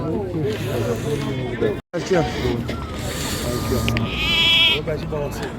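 Sheep with lambs bleat repeatedly at a holiday livestock market, several wavering calls close by, with someone talking over them and a brief dropout partway through.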